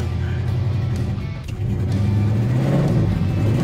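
Classic car engine pulling hard under acceleration from inside the cabin, a loud steady low drone that rises in pitch after a short dip midway.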